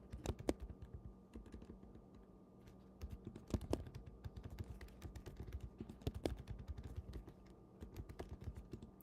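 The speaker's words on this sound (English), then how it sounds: "You probably hear me typing really good" Steady typing on a computer keyboard, close and fairly quiet, rapid irregular key clicks in bursts with brief pauses.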